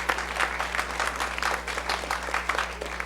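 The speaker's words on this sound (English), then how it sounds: "give them a round of applause" A theatre audience applauds the live band in the pit at a musical tribute at Roxy Downtown: dense, lively clapping throughout, close and full, over a low steady hum.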